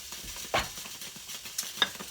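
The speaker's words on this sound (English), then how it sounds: "sizzle." Quiet sizzling from a pan while churros dough is made with 240 ml of water, with a couple of brief hissing bursts over faint background stirring.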